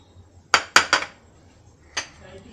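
Shallots, green chilli, garlic and ginger are pounded for a Kerala crab roast, three quick hard knocks in a row, a pause, then one more, close and sharp with a ringing edge.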